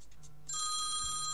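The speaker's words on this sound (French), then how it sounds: "Ah, téléphone, Thérèse, 2 minutes." A telephone rings steadily on a workbench during a desk-organiser crafting session, a sustained electronic trill starting partway through after a few soft sounds, loud and continuous with no talking over it.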